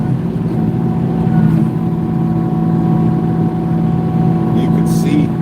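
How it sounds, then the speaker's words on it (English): Steady engine drone of a Kubota LX2620 HSDC hydrostatic cab tractor plowing deep snow, a continuous loud low hum with a faint higher whine, close and unbroken throughout. "I'm plowing with a Kubota LX2620 HSDC, which means it's a hydrostatic"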